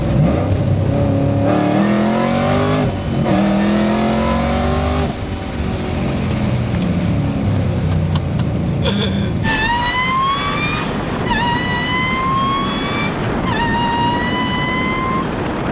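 A 2008 Shelby GT500 with 410 gears pulls hard on a big highway, its engine roaring loud and close through rising gear sweeps, each upshift marked by a brief dip before the pitch climbs again.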